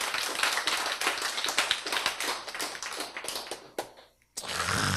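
An audience breaks into loud, dense clapping that carries on for several seconds, briefly thins, stops for a moment, then resumes.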